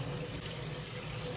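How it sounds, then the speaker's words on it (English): Tap water runs steadily into a bowl of black rice for rinsing, a continuous close, loud rushing splash with no talk. "I'm going to rinse it"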